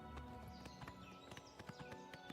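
A horse's hooves in the video game Oblivion beat a quick, steady rhythmic clip-clop throughout, evenly spaced and close, layered over a constant low game background hum.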